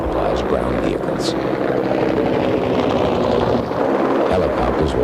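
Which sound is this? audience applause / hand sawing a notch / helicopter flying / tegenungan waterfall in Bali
helicopter flying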